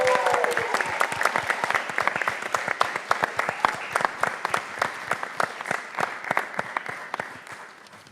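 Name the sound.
audience applause at a pharmacy student conference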